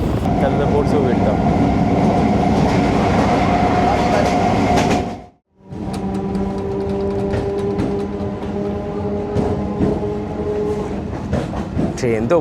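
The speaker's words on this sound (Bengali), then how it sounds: "ট্রেন তো বলছে এখানেও দাঁড়াবো না, যা স্পিডে যাচ্ছে।" A train on the line toward Namkhana roars past at speed without stopping, a loud continuous rumble and rattle of wheels and carriages that dips briefly before the cars keep rushing by.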